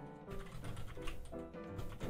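Quiet, quick clicking of keys being typed on a computer keyboard, a short close-up burst of irregular taps.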